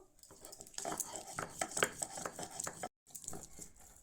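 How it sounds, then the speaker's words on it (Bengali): Onion, garlic and green chilli being ground into a paste, close, rough scraping and knocking strokes repeating unevenly, with a brief pause before the grinding resumes. "প্রথমে পেঁয়াজ রসুন আর কাঁচা লঙ্কাটা বেটে নেব"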